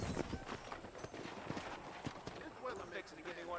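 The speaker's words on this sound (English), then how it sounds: "Okay, let's see if you can still ride a horse." Horse hooves clip-clopping at a run in the video game Red Dead Redemption, steady rhythmic thuds close by with continuous game ambience and a voice talking over them.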